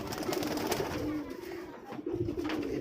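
Rajshahi Giribaz racing pigeons cooing, a low murmuring coo over steady background noise with faint chirps, continuous throughout at moderate distance.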